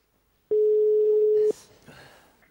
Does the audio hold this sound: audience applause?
no